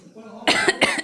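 A person coughs at home, two sharp bursts in quick succession close to the mic after a brief quiet lead-in, with a faint rasp at the start.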